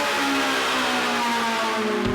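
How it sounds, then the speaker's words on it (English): A Ferrari 458 Italia's 570-horsepower V8 revs hard, a loud, continuous, high-pitched mechanical shriek with steady rising tones, close and alone. "whose 570 horsepower V8 shrieks with such ferocity"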